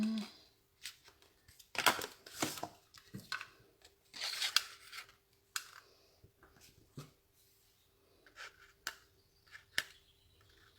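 Scissors snip a paper strip for a handmade card in a series of sharp, close cuts and crinkles separated by brief pauses, with paper rustling between them.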